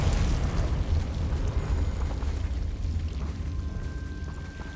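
A Confringo fire spell bursts in Hogwarts Legacy inside a mine, a heavy low rumbling blast that rolls on and slowly decays over several seconds, with no voices over it.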